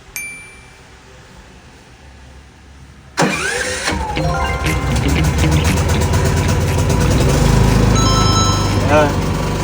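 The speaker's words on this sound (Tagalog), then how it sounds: "Buhayin natin yung generator." A Philking PK8000i generator running on gasoline starts abruptly after a quiet, faintly chiming lead-in, then settles into a loud, steady mid-pitched engine drone close by.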